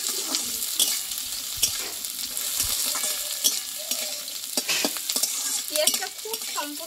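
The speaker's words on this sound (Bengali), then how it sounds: "আর দেবো কিছুটা কাঁচা লঙ্কা চেরা দিয়ে এইটা একটু ভালোভাবে একটু ভেজে নেব" Sliced onion and slit green chillies fry in a pan with a constant crackling sizzle, punctuated by scrapes and taps of a spatula stirring, close and alone.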